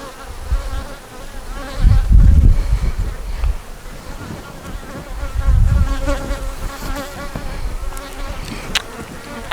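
Honeybees buzzing over a brood-filled hive frame during an inspection, a steady close insect drone that swells in two louder bursts amid handling noise, with no talk.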